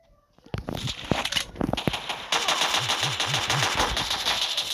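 Video game gunfire: rapid bursts of loud shots and clattering automatic fire, close and dense, with a steady run of repeated shots in the second half.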